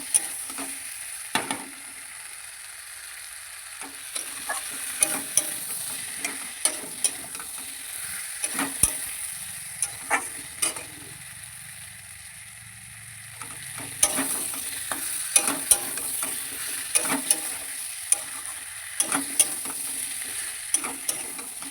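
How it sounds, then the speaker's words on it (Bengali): Sliced pointed gourd and potato sautéing in hot oil in a pan for a fish curry, with a steady sizzle and frequent scraping, clinking stirs of a spatula throughout, close and clear with no talk. "সবজিটা বেশি ভালো করে কষবে, এতে দেখবে আনাজটাও মজবে"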